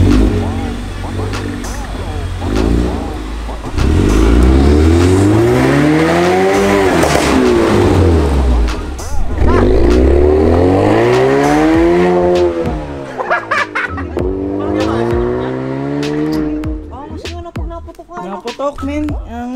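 Cars in the Mafia video game drive and rev hard, with tire squeal and skidding as pitch sweeps rise and fall, loud and continuous under people talking.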